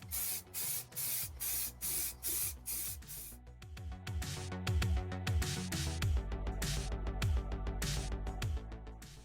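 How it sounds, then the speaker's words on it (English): Short bursts of aerosol spray paint hiss in a steady rhythm onto a replica Stormtrooper helmet, then a longer continuous spray, close and fairly loud under a background of music. "Once the spray painting's done"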